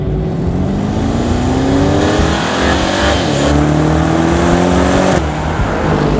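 A 2025 Aston Martin Vantage sports car engine revs loudly and climbs in pitch, dips briefly, then rises again as it accelerates hard nearby.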